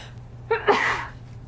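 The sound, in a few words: sneeze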